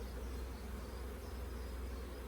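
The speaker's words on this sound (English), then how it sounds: "full of bees, full of brood" Honeybees drone in a hive packed with bees and brood during spring splits, a dense, continuous, close-up buzzing hum with no voices.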